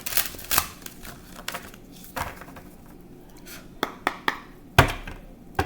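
Tarot cards being shuffled by hand, a series of quick riffling bursts and sharp slaps of card on card, uneven in rhythm, close and clear with no voices.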